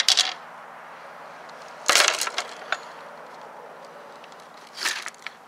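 Diagonal cutters snip through plastic adult-size clothes hangers, giving a few sharp cracking snaps separated by pauses, close and fairly loud against a quiet background.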